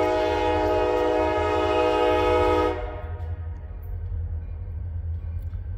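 A Wheeling and Lake Erie freight train, locomotive 7006 pulling tank cars, sounds a loud, sustained horn blast that cuts off after nearly three seconds, followed by the rumble and roll of the passing cars.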